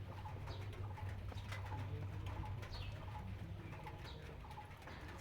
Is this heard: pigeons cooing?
yes